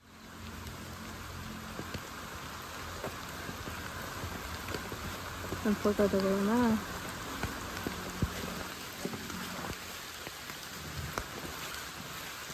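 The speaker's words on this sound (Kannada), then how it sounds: "ತಿರ್ಗಾ ಮಳೆ ಜಾಸ್ತಿ." Heavy rain pours steadily outdoors at a seaside tourist spot in Varkala, a dense continuous patter on surfaces, with a brief passing horn-like tone partway through and a voice speaking briefly.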